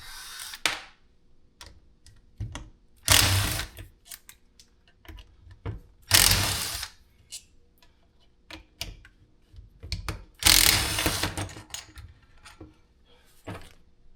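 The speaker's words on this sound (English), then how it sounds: "Milwaukee Impact driver." Milwaukee impact driver unscrewing, several short loud bursts of rattling hammering separated by pauses, with small clicks and handling noises in between, close by.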